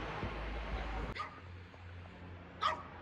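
A dog on a car trip, with a couple of short, high whimpers or yips over a steady rumble of the car interior. The first part is dominated by low road noise.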